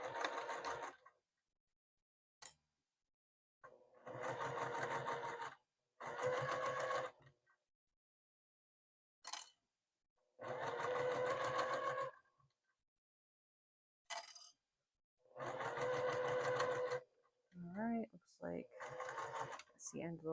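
A sewing machine stitches an oven mitt in a series of short, rapid whirring bursts separated by pauses, with one brief snap and some quiet shuffling near the end.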